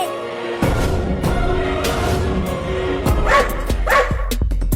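Dog barks in a lively, cartoon-like scene, several sharp yaps and bow-wows recurring over busy background music and sound effects, fairly loud and close.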